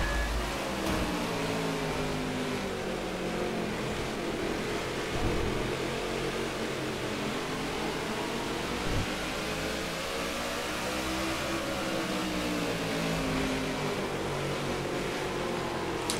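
Stock cars roar around Martinsville Speedway at the start of a race in NASCAR The Game: Inside Line, a loud continuous engine drone with shifting revving pitch throughout and no speech.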